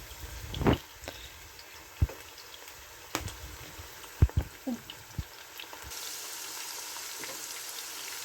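A medium-sized onion frying in a pan gives a soft, low sizzle broken by scattered pops and light clinks, with a steadier hiss building toward the end.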